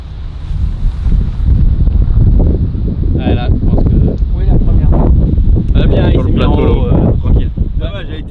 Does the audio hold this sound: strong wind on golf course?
yes